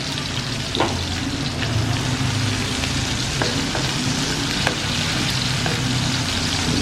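Food crackles and sizzles steadily in hot oil in a home kitchen pan, with occasional sharp scrapes and taps as it is stirred. The sound is constant and close, with no voices.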